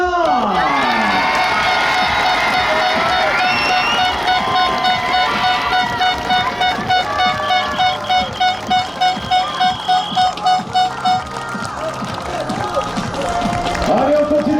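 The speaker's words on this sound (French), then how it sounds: "Je vais vous demander un tonnerre d'applaudissements pour celles qui vont être sacrées championnes." Crowd at a women's horse-ball championship podium ceremony in Lamotte cheering and applauding the champions, loud and sustained, with rhythmic bursts of clapping midway and horn-like tones over the noise.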